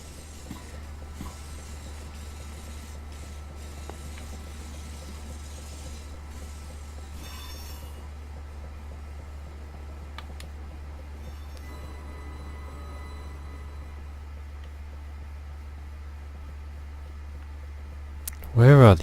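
In Train Simulator 2018, a train rolls along with a constant low rumble and faint hiss, quiet and unchanging, until a brief louder burst near the end.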